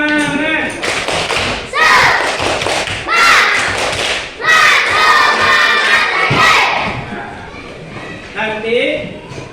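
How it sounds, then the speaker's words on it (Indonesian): A class of schoolchildren performs a 'tepuk semangat' spirit clapping chant, loud rhythmic clap bursts mixed with shouted chanting voices in several surges, ending with a quieter adult voice. "Tepuk semangat."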